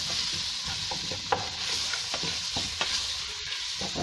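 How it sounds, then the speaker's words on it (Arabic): Chicken browning in a pan for a quick Ramadan soup, a steady close frying sizzle with scattered spatula scrapes and clicks, no voices. "وغادي تشحر لي الدجاج ديالي مزيان"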